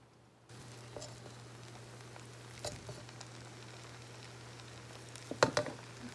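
Mutton pulao fries in a pot with a faint, steady sizzle under a low hum, broken by a few sharper clinks and crackles near the end; quiet and close.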